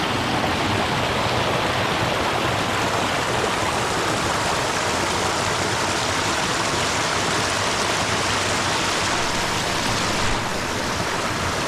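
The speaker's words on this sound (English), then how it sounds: "I'm stood in the streams" A woodland stream on the Clougha Pike footpaths flows in a steady, loud, close rush of water, with broadband splashing and no voices.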